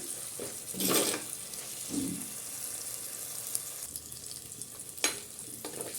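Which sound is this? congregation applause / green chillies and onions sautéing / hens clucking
green chillies and onions sautéing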